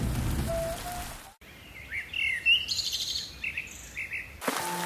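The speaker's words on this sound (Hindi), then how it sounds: "बारिश ज्यादा होने के कारण दीवारें भी गीली रहने लगी है" Rain patters steadily in the background while bird chirps and short tweets come through, bracketed by brief bursts of louder noise at the start and end.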